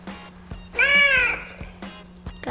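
A Dash robot toy plays a synthetic cat meow, one clear, loud, drawn-out mew in the middle, with a steady low electronic hum and faint clicks around it.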